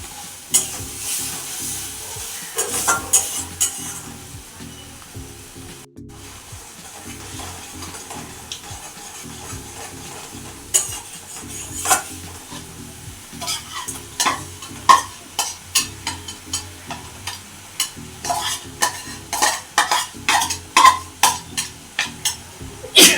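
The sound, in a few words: sautéing and stirring food in a pan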